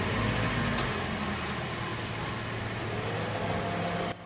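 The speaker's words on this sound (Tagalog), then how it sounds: "ilagay ko na itong engine cap niya tapos ipa-start ko itong makina" A Toyota Rush engine idles after an oil change and flush, a steady close mechanical hum with a faint whine, running evenly before cutting off abruptly at the end.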